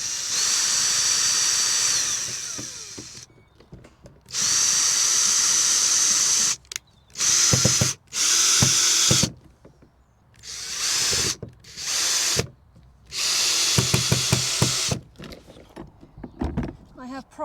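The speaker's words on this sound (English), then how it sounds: "I'm only going to put a couple of screws on each bracket" A power drill drives screws into brackets on a chicken coop, giving repeated loud whirring bursts of a second or two separated by pauses, nearby, with a person speaking between some of the bursts.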